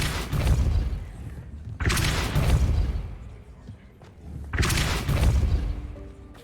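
Depulso force spells cast repeatedly in Hogwarts Legacy, heard as three loud booming whooshes with heavy low thuds, spaced a couple of seconds apart, each decaying into a rumbling tail.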